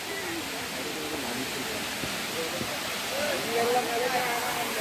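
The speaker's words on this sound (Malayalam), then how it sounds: "ഒറീസ ദാരിംഗ്ബാടിയിലുള്ള വെള്ളച്ചാട്ടം" Waterfall at Daringbadi, Odisha, crowded on a holiday, gives a steady broadband roar of falling water close by, with faint voices of visitors audible beneath it.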